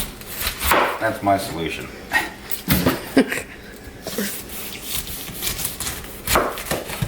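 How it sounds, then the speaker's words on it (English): A big knife chops through a ripe pineapple outdoors at a grill, giving irregular thuds and crunchy cuts against a board. Someone speaks briefly over the cutting. "I haven't cut a pineapple in a long time, so I'm going to use a bigger knife."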